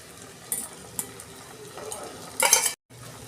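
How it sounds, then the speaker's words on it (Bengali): Egg is stirred into a sizzling Kashmiri chilli masala for egg tadka. Soft frying carries under a few sharp spoon taps and a brief louder scraping burst near the end, with no talking. "ডিমটা দিয়ে মশলার সঙ্গে ভালো করে আমি মেশাবো।"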